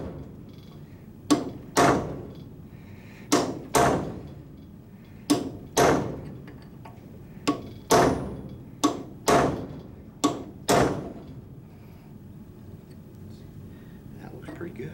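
A cold chisel is struck with a hammer to split a grade 5 nut, giving about a dozen sharp metallic blows in an uneven rhythm, close and loud with short ringing decays.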